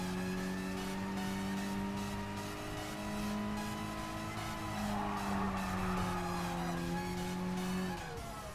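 A Mazda Roadster in Gran Turismo Sport racing and spinning out, its engine holding a steady drone while tires squeal and skid in a long continuous smear, loud and close, fading as the spin ends.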